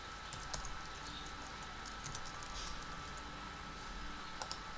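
Fingers typing on a computer keyboard while entering a word into PHP code, with light, quick keystroke clicks in an uneven patter over steady background hiss; nobody speaks.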